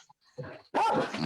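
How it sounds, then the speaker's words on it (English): Dogs barking and yipping, a few quick barks followed by a louder stretch of overlapping barks, fairly close. "Sorry about the dogs in the background."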